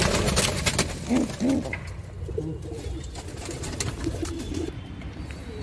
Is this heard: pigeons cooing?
yes